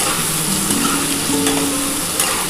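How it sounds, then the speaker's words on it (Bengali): Masala with Kashmiri chili powder fries hard in a pan for an egg, cauliflower and potato curry. The sizzle is loud, close and unbroken, and brief stirring scrapes are heard over it, with no speech. "এবার ভালো করে মশলাটা কষানো হবে, একটু ভালো করে কষিয়ে নিই বন্ধুরা মশলাটা।"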